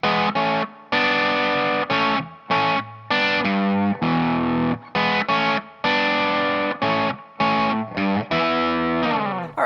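A distorted electric guitar plays a riff, loud and close, in short chopped chord stabs separated by brief gaps, repeating rhythmically with no voice over it.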